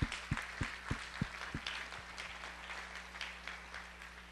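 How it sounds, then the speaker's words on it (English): Audience applause at a community health kickoff event in a school venue, a sparse scattering of distinct claps at first that thins into a soft, diffuse patter, heard from a distance. "So I'd like to give you a round of applause."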